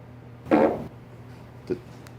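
A short, low, buzzy fart, followed by a fainter brief blip a moment later, close and otherwise quiet.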